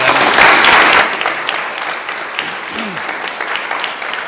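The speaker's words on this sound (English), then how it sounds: "Another round of applause, please" An audience at a young composers award concert claps for the performers, loud and full at first, then thinning into scattered, softer clapping as it fades.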